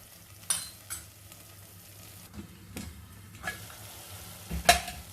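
Ridge gourd (turai) sabzi frying in oil in a pan, a soft steady sizzle under several sharp scrapes and clinks of a spoon stirring the vegetables at uneven intervals, close by.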